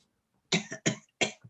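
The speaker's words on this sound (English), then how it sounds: "She over here clearing her throat off." A woman clears her throat in a few short, rough bursts, close and fairly quiet, with brief pauses between each rasp.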